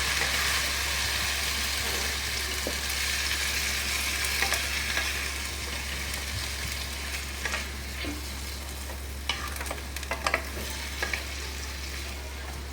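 A spice mixture sizzles and fries in a pan on the stove, a loud, close, continuous hiss with a steady low hum beneath, while occasional sharp scrapes and clinks of a stirring utensil break through, no talking.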